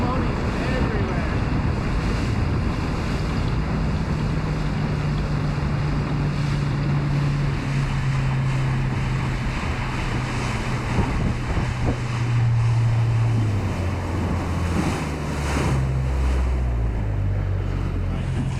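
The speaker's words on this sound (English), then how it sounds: "look at this current. There's just water moving everywhere." At sea, waves and ocean current wash around a boat. A steady, loud rush of water and wind buffets the microphone, and an engine drones low underneath throughout.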